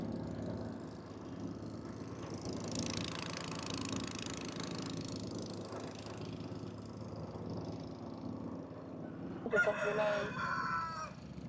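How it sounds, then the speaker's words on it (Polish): A rooster crows in the distance aboard a boat at a floating market on the Mekong River, Vietnam, over a steady engine-like rumble and background murmur, with a brighter burst of sound near the end. "tam kogut piał na tej łodzi"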